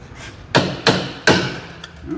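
Three sharp hammer strikes in a workshop bay, spaced roughly a third of a second apart, each a crisp close knock followed by a brief ring, with a lighter tap after.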